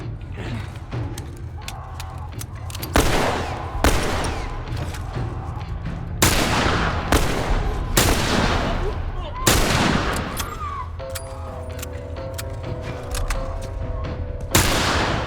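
Gunfire in The Last of Us rings out as several sharp, loud broadband shots spaced a few seconds apart, over a steady low game ambience with mechanical clicks and creaks, one shot every second or two.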